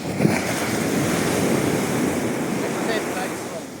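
Steady rush of surf breaking on a shore, with wind buffeting the microphone throughout; no voices stand out.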